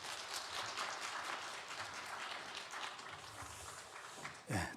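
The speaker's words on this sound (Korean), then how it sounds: "우리 나오실 때 박수로 환영해 주시면 감사하겠습니다." A Sunday-morning church congregation applauds to welcome the pastor to the pulpit, a fairly quiet, continuous patter of many hands, with a brief louder bump near the end.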